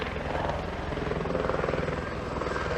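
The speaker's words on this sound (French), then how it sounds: "Il y a un avion qui passe. C'est un hélicoptère de la police." A police helicopter's rotor thrums steadily overhead near a forest, a continuous loud beating drone that fills the whole stretch without pause.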